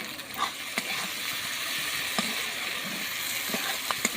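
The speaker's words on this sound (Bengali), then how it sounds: "কেটে রাখা ক্যাপসিকামগুলো আমি এর মধ্যে দিয়ে দিচ্ছি এটাকেও আমি ভেজে নিচ্ছি" Chopped capsicum fries in a pan over a wood fire with a steady, soft sizzle and occasional light pops and stirring scrapes, no talking.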